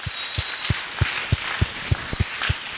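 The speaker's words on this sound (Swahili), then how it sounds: "On peut applaudir le Seigneur." Congregation in church clapping for the Lord in a slow, steady rhythm, single distinct claps evenly spaced about a third of a second apart, fairly faint with a room echo.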